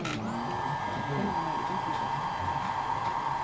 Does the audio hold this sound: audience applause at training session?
no